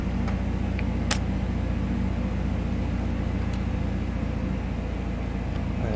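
A V-tail Bonanza piston engine in a flight simulator game doing a run-up short of the runway, a steady loud low rumble and drone with a few brief clicks throughout.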